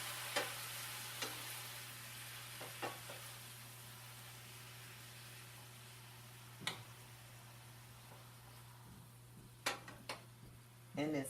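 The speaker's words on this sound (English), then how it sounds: "Toss in some spinach. You're going to stir it in." Spinach is stirred into a hot pan for a lamb loin dish: sparse, soft scrapes and clicks over a faint sizzle and a low steady hum, quiet throughout.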